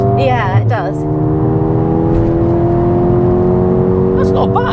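Mercedes-Benz A35 AMG engine accelerating hard with a rising drone and a quick gear shift near the start, close and loud inside the cabin, with people talking over it.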